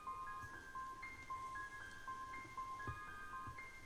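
A numbers-station shortwave recording plays a tinny, repeating tune that sounds like an ice cream truck jingle. The notes are faint and set over radio hiss and static, with soft thumps.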